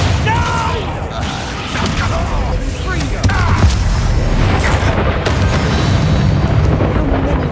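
A spell cast during a Hogwarts Legacy combat encounter produces loud magical bursts and booming impacts, repeated through a chaotic fight with voices shouting over them.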